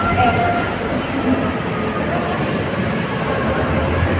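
A Guwahati–New Bongaigaon passenger train rumbles past loudly and steadily, its wheels squealing in brief high whines over a constant rolling roar.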